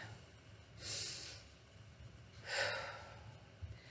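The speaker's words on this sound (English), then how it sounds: "Take a deep breath" Two slow, deep breaths in a quiet room, each a soft airy inhale swelling and fading, the second slightly louder, close and gentle.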